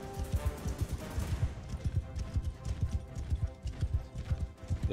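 Horse hooves galloping in Mount & Blade 2: Bannerlord, a rapid rhythmic clip-clop of thudding beats running steadily throughout, fairly close and prominent over faint battle ambience.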